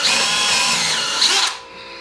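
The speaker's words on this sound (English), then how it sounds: "then I drill a smaller hole through the center of the first hole" A power drill whirs steadily at close range for about a second and a half, boring a smaller hole through the center of a larger one, then stops, leaving faint background hum.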